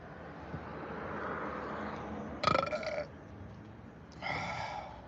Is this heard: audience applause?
no